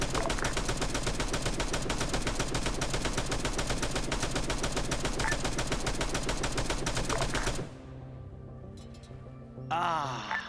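Dense automatic gunfire barrage in the military shooter Arma 3, a loud sustained rapid stream of shots that cuts off abruptly, leaving quieter mechanical rumble, with a radio voice briefly heard near the end.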